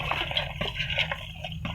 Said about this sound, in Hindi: इसमें 2-3 टेबल स्पून हम पानी का शामिल करके और इसको गला लेते हैं।